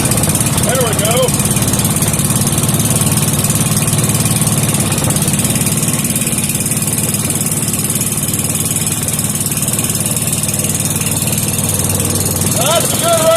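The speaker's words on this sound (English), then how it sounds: "That's a good running engine." A 5 hp Briggs and Stratton small engine with gear reduction runs steadily at a loud, even idle throughout, close to the microphone, with a voice briefly audible over it.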